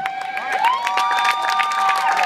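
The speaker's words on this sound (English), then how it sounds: "Big round of applause for these guys" A crowd at a 2013 Louisville Cardinals basketball caravan event cheers and applauds for players Kevin Ware and Russ Smith, a steady wash of clapping with high shouts and whoops over it.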